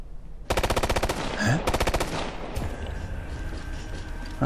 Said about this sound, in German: Ach, die schießen immer auf irgendwas.